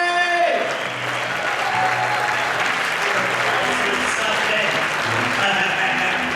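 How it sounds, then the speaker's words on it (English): A comedy club audience applauds comedian Rob Falcone onto the stage, thick steady clapping filling the room, loud and continuous after a brief voice at the start. "Yeah, you can applaud for that. Keep it going for Rob Falcone."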